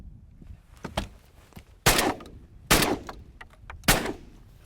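Shotgun shots fired at ducks in flight during an evening duck flight, three loud sharp blasts spaced about a second apart, each with a short outdoor decay, over quieter rustling and fainter knocks.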